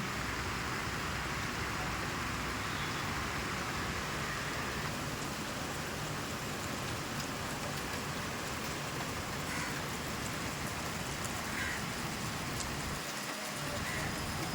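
Steady, dense rain falls on a rooftop as a continuous close wash of patter that stays even throughout, with no voices heard.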